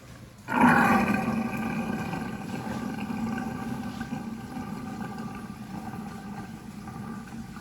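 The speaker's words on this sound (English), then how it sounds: "So, go ahead and let this water out" Water rushes suddenly down a bathroom sink drain in a DR Horton home after the faucets are replaced, starting with a loud gush and settling into a steady, close draining roar.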